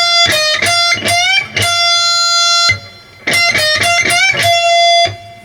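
Distorted electric guitar lick with bright picked notes, string bends and vibrato in two loud, closely spaced bursts separated by a brief pause.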